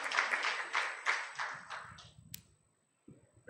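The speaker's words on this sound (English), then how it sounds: "Can we welcome Steve with a round of applause?" A conference audience at an East African tax breakfast gives a short round of applause to welcome a speaker named Steve, a dense burst of clapping that fades out after about two seconds.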